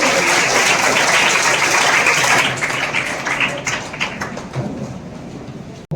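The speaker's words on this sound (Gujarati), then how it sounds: "જોરદાર તાળીઓ" Loud applause from the audience at a Thakor Sena Vidyaratna award ceremony in Lathi taluka, sustained clapping that thins and fades over several seconds before cutting off.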